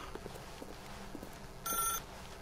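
In The Stanley Parable, a telephone bell gives one short, bright ring over a low hum and soft footstep-like taps.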